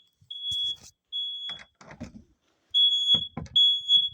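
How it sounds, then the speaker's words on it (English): A smoke-type fire alarm beeps in long piercing high tones, three bursts separated by gaps, set off by a smoking pan in a home kitchen; voices speak between the alarm bursts. "Is there a reason why the fire alarm's going off?"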